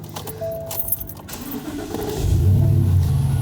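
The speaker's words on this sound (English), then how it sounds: "do you hear that squealing sound?" A thin, steady squeal from a worn belt pulley on a Ford 7.3L Godzilla gas V8 in an F350 Super Duty rides over the idling engine, which grows louder and rumbles deeper partway through.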